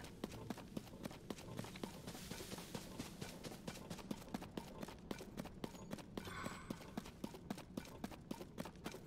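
Skeleton horse hooves clip-clop in a steady rhythm in the video game Zelda: Tears of the Kingdom, a close, regular series of sharp hoof strikes over faint background game ambience.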